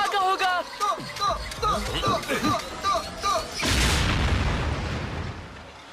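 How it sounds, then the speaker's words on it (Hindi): Excited shouting and chatter in Hindi in an animated Transformers cartoon, then a sudden loud explosion bursts out and rumbles away into a hissing, fading roar. "भागो, धमाका होगा।"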